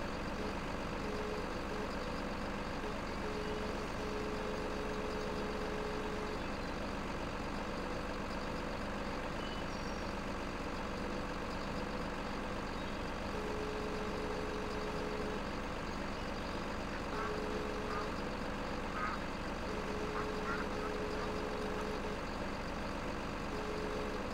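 A logging truck idles in Farming Simulator 15 with a faint, steady low drone, alone and unbroken throughout.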